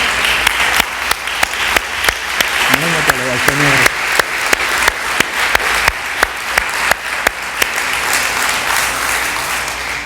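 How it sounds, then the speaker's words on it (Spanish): A church congregation applauds at an evangelical service, loud continuous clapping with sharp individual claps standing out and a brief voice sounding partway through. "si ese aplauso es para el Señor,"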